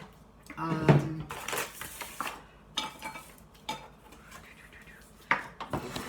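A utensil stirs wet challah dough in a bowl, with scattered clinks and scrapes against the bowl at close range and quiet moments between them.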